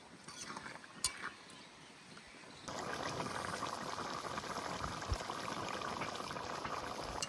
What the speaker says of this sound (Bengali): জাল দেবো এবার।